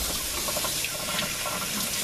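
Cold tap water runs steadily from a faucet at home, a close, continuous rushing splash that fills the whole moment without pause.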